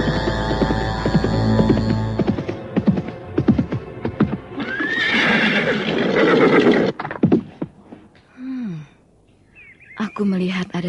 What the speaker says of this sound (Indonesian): Aku mendengar derap kaki kuda.